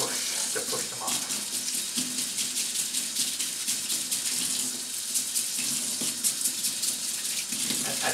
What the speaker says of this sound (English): First you need, of course, is to add the water.